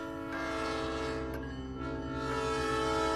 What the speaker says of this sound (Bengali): আপনার মেবি ট্রেন চলে আসছে